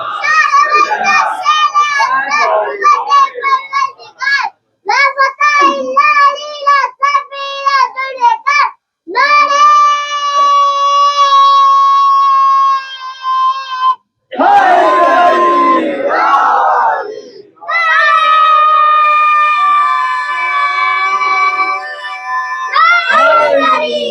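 A congregation at a Muharram majlis recites salawat loudly in unison, a dense crowd chant of sustained tonal phrases with brief pauses between lines, filling the hall.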